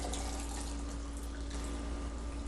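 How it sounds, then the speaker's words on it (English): Hot water pours into a coffee press, a steady, even stream of liquid running and splashing into the glass carafe over a constant low hum, with no talking. "And I'm going to pour my water in."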